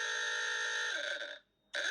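Buzzing electronic alarm sound effect, a steady harsh tone that cuts out briefly after about a second and a half, then starts again, loud and alone.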